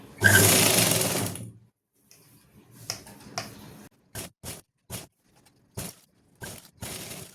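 An electric sewing machine stitches a suit, opening with one long loud run, then after a pause a string of short, evenly spaced stitching bursts with brief silences between.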